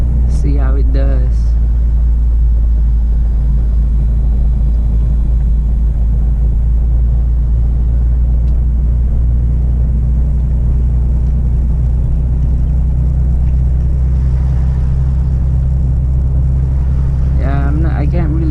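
A Nissan 350Z fitted with wheel spacers drives around the block, giving a steady, loud low engine rumble heard from inside the car, with brief voices at the start and end.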